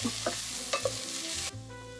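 Shallots and garlic sauté in melted plant-based butter, a bright steady sizzle with a few soft utensil taps, close and loud, cutting off sharply toward the end with a quieter hum after, no voices.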